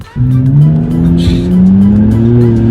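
A BMW 328 engine revs up loudly and close, a steady rising tone with a brief hiss midway, after a quiet start and with no talking.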